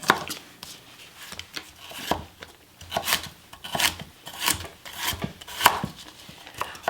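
A knife chops a medium onion on a board in steady, fairly close strokes with a crisp, rhythmic cadence that speeds up toward the end.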